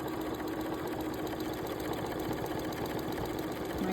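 A sewing machine stitches a beige table runner with a 1/4 inch seam, freshly oiled and fitted with a new needle; a steady, continuous mechanical whir with rapid even chatter runs close and loud for the whole stretch, no talking.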